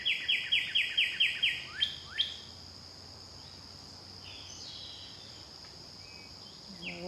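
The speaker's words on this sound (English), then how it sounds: "The birds are singing" Birds sing outdoors during a rainy summer day, opening with a clear run of about ten rapid, repeated whistled notes, then scattered fainter calls over a soft, steady background hiss with insect-like buzzing.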